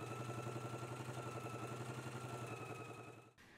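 A sewing machine runs a continuous 5/8-inch seam on a McCall's M8449 garment, a steady buzzing motor hum with a rapid rhythmic stitching pulse that suddenly stops near the end.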